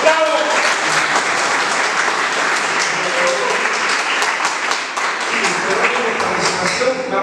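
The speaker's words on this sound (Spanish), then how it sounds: "a quien lo recibimos nuevamente con un fuerte aplauso" An audience applauds warmly at a university book presentation, dense continuous clapping close and loud, with voices mixed in under the claps throughout.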